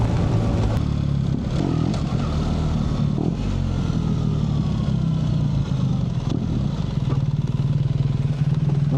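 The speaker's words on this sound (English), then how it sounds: "Damn, this bike flies with just a small twist of the throttle." A BMW R 1300 GS motorcycle engine pulling steadily under throttle, a close, continuous low drone with some rattle and wind noise running through the whole stretch.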